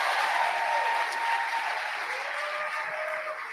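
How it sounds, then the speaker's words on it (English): A crowd at a gathering in Traverse City gives a loud round of applause for Chasten, a steady wash of clapping with faint cheers running through the whole clip. "a huge round of applause to Chasten"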